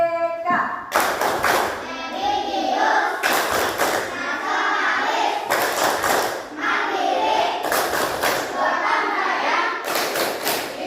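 A school class performs the 'Tepuk PPK' rhythmic clapping chant: bursts of claps in a regular pattern, with children's voices chanting between and over them.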